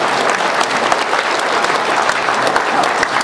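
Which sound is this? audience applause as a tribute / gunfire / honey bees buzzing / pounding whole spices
audience applause as a tribute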